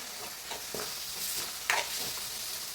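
Pav bhaji masala in a kadhai hisses and sizzles after a small splash of water is added. Soft stirring scrapes sound under a steady, close frying hiss.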